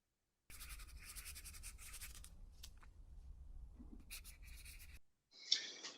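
A pencil scratches across paper up close, with quick hatching strokes in bursts separated by brief pauses, faint and quiet, followed by a short sharper scribble at the end.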